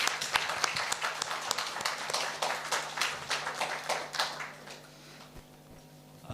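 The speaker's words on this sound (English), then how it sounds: "Let's give a big round of applause to our respected CGM." Audience at a corporate felicitation and award event for BSNL staff in Kodaikanal clapping in a room, a burst of irregular handclaps that thins out toward the end, heard without talk.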